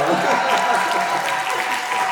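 Wedding guests applauding at a ceremony in Paris, a dense, fairly loud patter of clapping that carries on steadily throughout.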